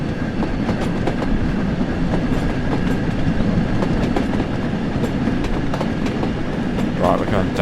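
A heavy steam locomotive in Train Sim World pulls away on the Peak Forest line, a continuous rumbling rail run with rhythmic clickety-clack wheel beats and faint squeal, steady and close throughout.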